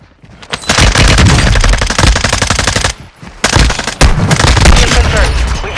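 Sustained loud automatic gunfire in a shooter video game, long rapid bursts broken by brief pauses, close and dense, with booming impacts mixed in.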